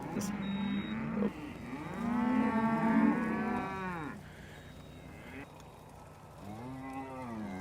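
Cattle on a farm moo loudly and nearby, with several long drawn-out calls. One long low moo is followed by a shorter one near the end, heard over outdoor background noise while a cow herd with calves is moved near a fence.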